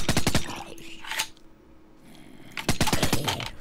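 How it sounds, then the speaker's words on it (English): Rapid bursts of MP5 gunfire in the Minecraft CrackPack modpack, a fast string of sharp shots at the start, a pause, then another close, loud burst. "Dude, this gun is OP, man."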